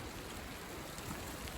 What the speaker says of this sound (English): rather than be out here in the wind and the rain